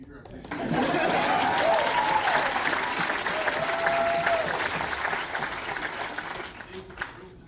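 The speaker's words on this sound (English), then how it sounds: "Nice golf clap for Peter." Polite, steady clapping from a small audience runs for several seconds, with someone speaking over it.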